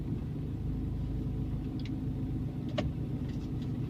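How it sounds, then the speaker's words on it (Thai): A car engine rumbling low and steady as a car pulls out of a parking spot at a market, with faint ticks and clicks nearby. "มีรถจะออกค่ะแม่บ้านก็เลยจอดรถรอเนาะ"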